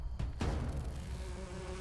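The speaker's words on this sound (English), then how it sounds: "There's those bee swarms." A dense, droning insect-like buzz swells in after a brief pause and holds steady, loud and close, with no voices.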